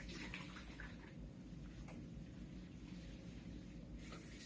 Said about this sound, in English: Emptying my urine into the designated toilet.